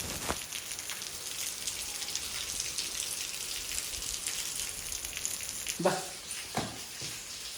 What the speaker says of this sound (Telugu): మేము రిసార్ట్ చేరుకునేసరికి మంచిగా వర్షం పడుతుంది